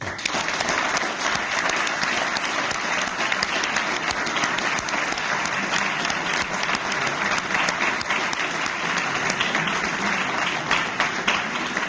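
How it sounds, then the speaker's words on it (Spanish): An audience at a book presentation gives sustained, thick applause, many hands clapping at once in an even, unbroken roar that stays at the same level throughout. "Así que un aplauso a él."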